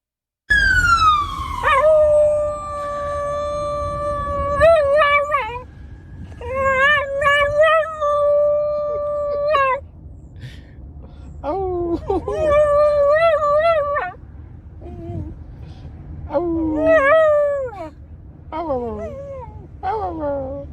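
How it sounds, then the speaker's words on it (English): A dog howls in long, wavering, rising and falling notes alongside a descending ambulance siren wail, with repeated bursts of howling separated by short pauses. "it's whenever there's an ambulance, he howls"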